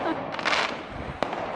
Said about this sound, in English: Oh, free fireworks!